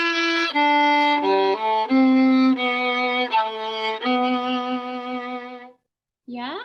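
Violin playing measures 21 to 24 of Dragon Dance, a bowed melodic phrase of sustained and shifting notes, close and clear, ending briefly before a new note starts.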